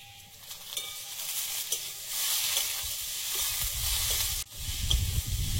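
Potatoes frying in a pan, a steady close sizzle with occasional stirring scrapes that briefly cuts out near the end, then resumes louder; no talking.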